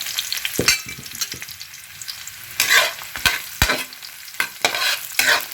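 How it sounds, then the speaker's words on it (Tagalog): Quartered onion and garlic frying together in a pan for chicken adobo, a loud sizzle broken by repeated sharp scrapes and knocks of a spatula, close and busy with no talking. "Ihulog na yung sibuyas at saka bawang."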